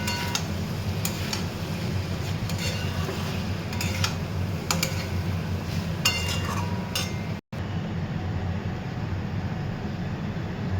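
A utensil stirs food in a pot before water goes in, giving scattered light metallic clinks and taps over a constant steady hum in a home kitchen.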